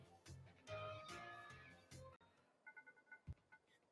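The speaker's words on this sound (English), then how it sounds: "Phone's ringing." A phone ringing in the video game Pokémon Violet: a short run of repeated electronic chirps toward the end, following louder game music and sound effects, with no talk over it.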